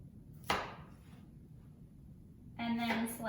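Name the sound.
knife cutting vegetable on cutting board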